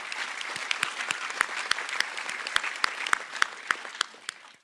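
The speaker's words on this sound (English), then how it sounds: "I also want to give a round of applause to the whole fire and EMS training staff" Applause from the audience at a DeKalb County Fire Rescue graduation ceremony for Class 117, steady dense clapping with sharper individual claps standing out, sustained throughout and tapering at the end.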